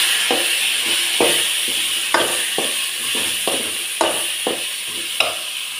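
Masala paste sizzles steadily in hot oil while cooking kulambu, a continuous frying hiss broken by regular tapping and scraping as it is stirred.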